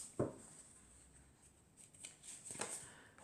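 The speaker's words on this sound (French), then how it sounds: "Alors, on va tirer encore 4 cartes" Tarot cards drawn and shuffled from a deck: a sharp papery snap at the start, then soft rustling and a second flurry of card friction near the end, close up over a faint steady hiss.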